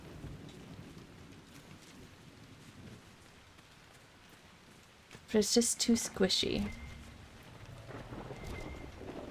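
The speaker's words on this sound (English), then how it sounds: "I do like the storm noises. They did very good on the storm ambience." Stormy rain ambience from the Dragon Age: Inquisition game, with steady rainfall and a loud thunder crack midway, under a person talking quietly.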